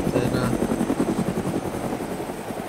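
A helicopter in DayZ Epoch, its rotor chopping in a rapid, steady pulsing rhythm, loud and close and gradually fading slightly, with someone talking excitedly over it.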